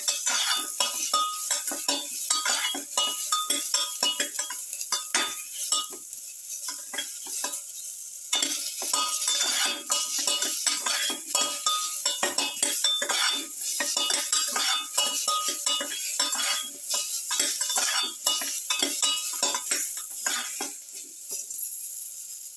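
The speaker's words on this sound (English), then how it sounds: "Keep on sauteing." Salted pumpkin pieces sauté in a pan for a long stretch, a continuous sizzle under busy, rapid scraping and clinking of a metal utensil stirring against the pan, close and steady, with no talk.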